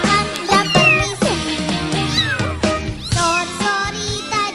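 Cat meowing repeatedly at close range during a beach-area trip at Ujung Genteng, with several loud, drawn-out calls of varying pitch over steady background noise.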